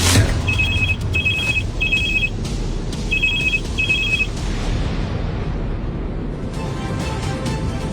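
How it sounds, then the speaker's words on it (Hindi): A telephone rings aboard a plane, five short electronic trills in two clusters over a steady, loud cabin rumble. "आपके लिए कॉल है।"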